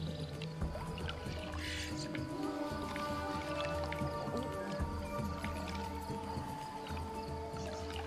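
Roasted-gameplay-free river scene from Ancestors: The Humankind Odyssey, where water is scooped up and drunk, giving soft wet squishes and drips over a steady bed of ambient game tones and music.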